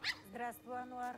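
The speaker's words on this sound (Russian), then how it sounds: "Ты же что гавкаешь?" A dog barks once, short and sharp, indoors, then a person speaks quietly over faint whimpering.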